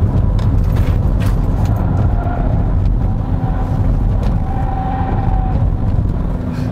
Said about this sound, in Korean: 이 가속할 때 엔진 소리는 베이스 톤이 아니라 약간은 좀 기계적인 음이 나는 것 같아요